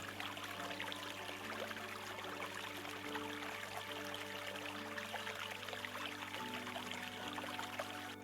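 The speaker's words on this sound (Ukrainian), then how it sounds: "Особливо дзвенять дзюркотливі струмочки." Spring meltwater trickling in small streams: a continuous, faint, bright pouring and gurgling of running water, steady and unbroken, with no voices.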